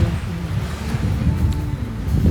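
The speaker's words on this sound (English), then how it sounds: "we're in the shade, there's a nice breeze, we get to listen to the sound of the ocean" Steady ocean surf and breeze at Serenity Bay on Castaway Cay, a broad continuous wash of wind and water with no talking.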